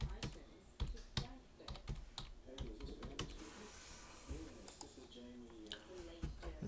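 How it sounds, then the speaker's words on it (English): Typing on a computer keyboard while filter settings are entered in photo-editing software: a steady run of close, crisp key clicks with irregular rhythm, heard under someone talking. "I'll type in oil painting."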